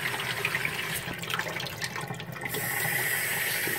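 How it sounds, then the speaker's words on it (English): Water running from a tap into a camper sink, a steady close splashing and trickling stream that grows slightly fuller toward the end, with no talk. "First time I've had water in the camper."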